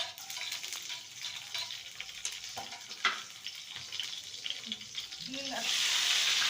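A green chili dropped into hot oil already tempered with mustard seeds, cumin and fenugreek, a close crackling sizzle with scattered pops that swells into a louder, denser hiss near the end.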